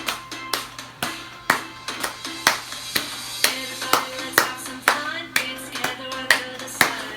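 Children clap along in a steady rhythm to an Ohana song at a preschool Sunday school, with about two sharp claps a second, close and loud, and a faint hum of voices underneath.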